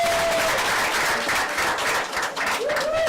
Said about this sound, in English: Can you guys help me give Melody a round of applause?